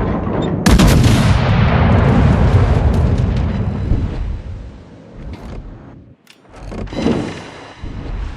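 Heavy naval gun salvos from a battleship in World of Warships, a loud booming blast followed by a long rumbling decay, with further heavy shots near the end and no talk.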